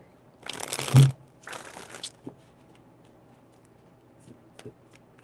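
Tarot cards are shuffled in two quick riffling bursts close to the microphone, followed by a few soft taps and near silence.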